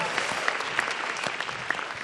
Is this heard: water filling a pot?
no